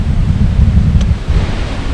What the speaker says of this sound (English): Well, it's a pretty windy day now